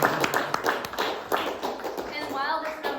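An audience claps in scattered, uneven bursts of sharp slaps close by, not quite in unison, while voices murmur and talk underneath.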